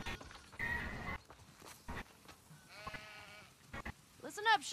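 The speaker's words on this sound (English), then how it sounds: "Listen up, sheep." Sheep bleating in The Last of Us Part II video game, a short wavering bleat near the end after stretches of talk and game sounds.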